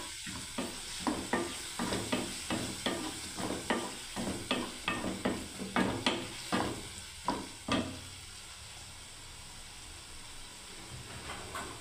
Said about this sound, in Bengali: এবার আমি আবার কষতে থাকবো।